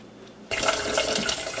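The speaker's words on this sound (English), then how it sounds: "I'm gonna go get these rinsed off" Tap water bursts on and runs steadily into a sink while tumbled rocks are rinsed, close and fairly loud, with no talking.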